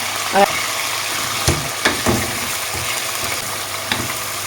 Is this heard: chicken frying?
yes